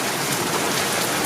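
Heavy rain pours steadily and densely during a tornado warning storm, a continuous loud hiss of drops on surfaces with no break.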